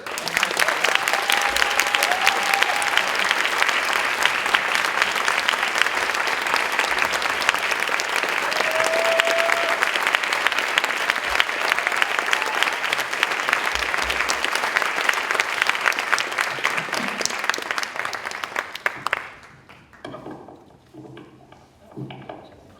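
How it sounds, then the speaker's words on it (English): A crowd at the Beantown Revue 2024 show gives sustained, loud applause for about twenty seconds before it drops away, leaving quiet room noise and a faint voice. "So I think we deserve to give her a line of applause as well."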